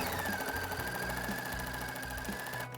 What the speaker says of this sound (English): Again, starting off the quilt and then stitching on.